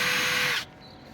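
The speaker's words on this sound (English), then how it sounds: "what we're going to do is we're just going to pre-drill" A power drill pre-drills through a fence panel into a post with a loud high whir for about half a second, then stops abruptly, leaving quiet room tone.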